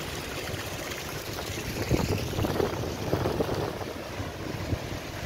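Water of the Power Spring stream flowing toward Bathsheba on the east coast of Barbados, a steady broadband rush with no voices, its gurgling growing a little denser near the middle.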